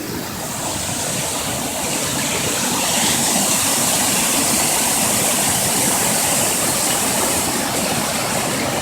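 Water on a mountain hike pours over rocks beneath a footbridge, a loud, continuous rushing roar close by with no breaks.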